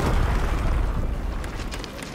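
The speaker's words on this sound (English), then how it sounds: "Because that rumble is coming from the other side." A deep rumble comes from beyond a gate in the video game A Plague Tale Requiem, a loud, sustained low roar that slowly fades, heard alone without talk.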